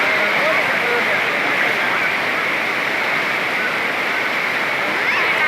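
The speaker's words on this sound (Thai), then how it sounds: "น้ำไหลดีครับพี่น้อง ที่นี่คือห้วยสงครับ" Water overflows the spillway of the Huai Saneng reservoir in Surin, making a loud, continuous, close rushing roar that stays even from start to finish.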